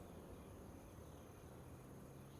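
Bees swarm around beehives on a Farming Simulator farm, a faint, continuous buzzing hiss held steady and unbroken throughout, with no talk.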